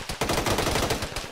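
Rapid bursts of automatic gunfire crackle in a military video game, dense overlapping shots in a short, loud volley with no talking.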